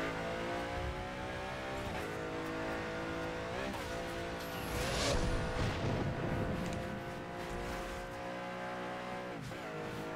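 A car in the Burnout Paradise racing game accelerates at full throttle, its engine note climbing steadily through gear changes with a brief tire squeal midway, loud and continuous for the whole stretch.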